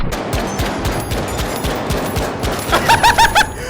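Gunfire in The Finals as a machine gun trades with a Desert Eagle pistol: loud, rapid rattling bursts, then a few sharp, ringing single shots in quick succession near the end.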